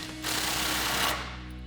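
A 19mm socket tightens a bolt on a Jeep Gladiator JT coil spacer, giving a short, fast burst of close mechanical whirring and ratcheting that lasts about a second against steady background noise.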